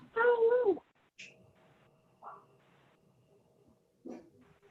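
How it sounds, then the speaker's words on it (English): A dog indoors lets out a loud, whiny, pitch-bending yelp, followed by a few short, fainter vocal noises spread across a quiet room. "I'm gonna go get my dog and tell him to be quiet."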